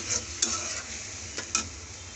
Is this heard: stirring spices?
yes